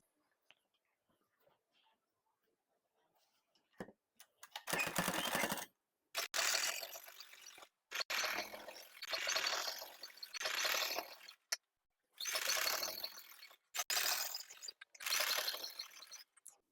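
A sewing machine stitches a finishing strip onto a lined kurti, running in several separate bursts of fast, close, moderately loud whirring with short pauses between them and no talk.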